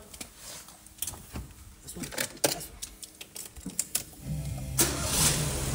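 A car with a PureTech engine is started, with clicks and key handling first, then a cranking catch that settles into a steady idle hum for the last seconds.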